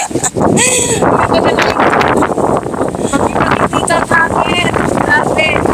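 Strong seaside wind buffets the microphone in loud, continuous gusts, with faint bird calls and a voice speaking under the roar.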